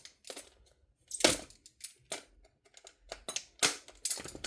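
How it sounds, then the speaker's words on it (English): Blade slicing through a chunky toy dinosaur Frenzy Pack box, heard as several short, sharp cutting and scraping bursts separated by brief pauses, close and fairly quiet. "Let me cut this open very carefully."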